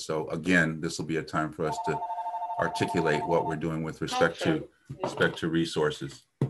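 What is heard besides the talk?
telephone ringing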